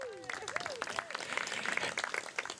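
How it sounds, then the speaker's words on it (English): Wedding guests applaud the bridal party during a live-streamed ceremony, with scattered steady clapping running under a voice that begins speaking over it. "Give them, guys, a big round of applause"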